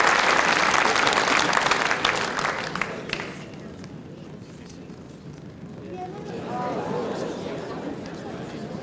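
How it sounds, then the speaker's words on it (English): Crowd noise at a 1999 World Bowls singles match: loud applause at first fades into a low murmuring crowd, with some stirring toward the end. "The murmur from the crowd here when they saw the yellow lollipop held aloft by Alec Rose."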